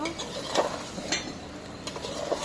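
A spoon scrapes and knocks against a pan while curry is stirred during home cooking, a few soft metallic strokes over a steady background hiss.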